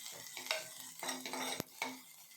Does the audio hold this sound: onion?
yes